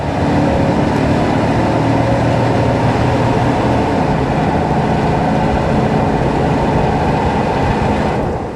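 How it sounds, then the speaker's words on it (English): A 1997 Chevrolet K1500 pickup with a 5.7-litre 350 V8 drives along, a loud, steady engine and road rumble from inside the cab with no break, while a speaker talks quietly. "You gotta love those 350s that these trucks came with."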